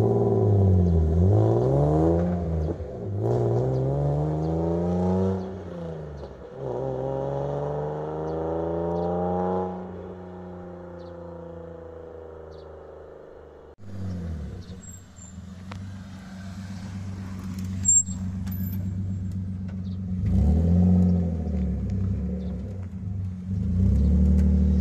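A BMW E36 323ti starts moving off and drives away, its engine rumbling deep and bassy with rising revs through the gears, loud at first then fading into distance before another pass of steady engine drone.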